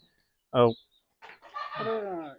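A sharp squawk from a hen, then a run of drawn-out clucking and cackling calls from desi country chickens on a poultry farm, close by and fairly loud.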